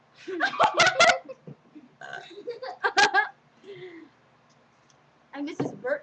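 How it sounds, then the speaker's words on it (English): Girls taking turns in a burping contest, several loud, close burps in bursts with pauses between, mixed with giggling and laughter. "And this is burp today."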